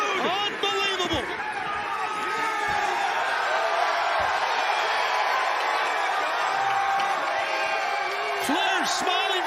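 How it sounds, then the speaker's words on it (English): A wrestling arena crowd erupting for a wrestler's entrance from the rafters, dense roaring cheers and whoops filling the hall continuously, loud and sustained, with commentators talking over the noise. "listen to this crowd,"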